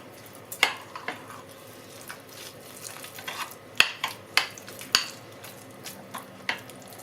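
A spoon mixes cucumber, yogurt and mint sauce in a bowl, giving soft, irregular scraping and clinking taps at close range, with several sharper knocks against the dish and no talking.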